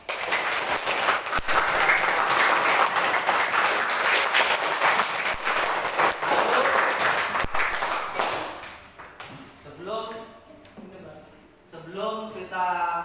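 A primary school class applauds, a dense burst of clapping for several seconds that fades out, followed by children and a teacher speaking.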